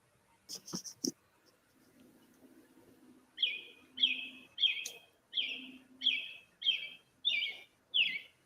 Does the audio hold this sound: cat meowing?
no